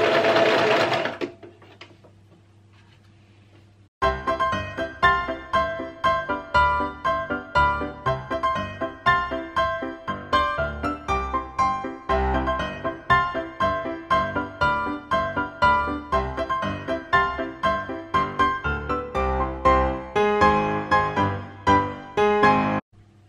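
A sewing machine stitches a bra band piece to the bridge with a quarter-inch seam, running loud and close in steady rhythmic bursts for about twenty seconds after a brief quieter start.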